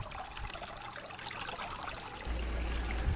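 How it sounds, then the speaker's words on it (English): Water from a garden pond filter trickles and splashes steadily over a small waterfall on a 125-gallon pond, and a low rumbling flow swells in the last second. "I'm setting up the filter here so we can get the waterfall going."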